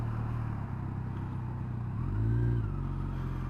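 Car engine hums steadily in traffic and then swells briefly as the vehicle picks up speed, a low continuous drone heard from inside the cabin with no talking.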